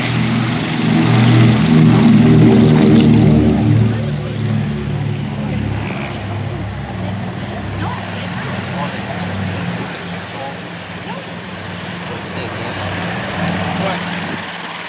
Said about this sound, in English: B-24 on the roll.